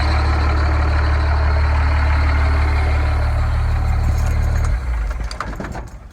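A 1991 Dodge Cummins 12-valve diesel pickup with a five-speed idles loudly and steadily with a deep, rumbling clatter, then drops to a lower, rougher tone near the end.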